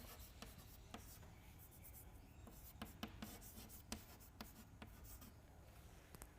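Pen or chalk writing during a statistics lecture, heard as soft, continuous scratching and rubbing strokes with frequent small taps, quiet and close over a faint steady room hum.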